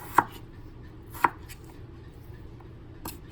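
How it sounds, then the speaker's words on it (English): A knife chops potatoes into quarter-inch chunks on a cutting board: two sharp, close thuds about a second apart, then a softer third cut, with quiet between. "I'm going to go ahead and finish cutting on my potatoes"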